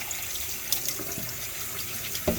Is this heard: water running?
yes